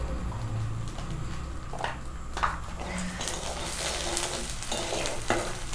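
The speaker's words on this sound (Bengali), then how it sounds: "জিরে, এটা আমি তেলের মধ্যে বাটারের মধ্যে দেবো। সামান্য একটু লঙ্কা দিলাম।" Cumin seeds and a little chili hit hot oil and butter for a Bengali-style chana masala tempering. A steady close sizzle runs throughout, broken by scattered taps and stirring clinks.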